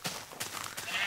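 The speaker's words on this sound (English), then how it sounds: "Inside, you got sheep." Sheep kept inside containers on a farm bleat in a short, faint burst of overlapping cries against a steady background hiss.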